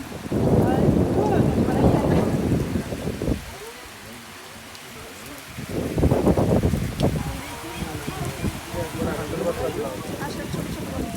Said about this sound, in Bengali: কি সুন্দর বৃষ্টি, টিনের চালে বৃষ্টি দেখেন